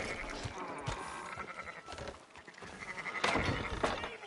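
Sheep bleating in Red Dead Redemption 2 on a livestock farm, several wavering bleats overlapping at close to moderate distance over a steady ambient bed, with no talk.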